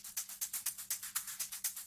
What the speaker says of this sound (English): Some main shakers.